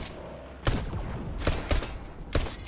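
Pulse rifle gunfire in Fortnite, heard as a few sharp, separated bursts of shots spaced over a couple of seconds against low background game noise.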